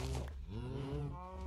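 A single drawn-out cow moo from Minecraft cattle, close and clear, lasting over a second with a wavering pitch.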